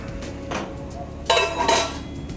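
Cooking pot moved on a stovetop, a few light metallic clinks and a short scraping clatter, close and quiet.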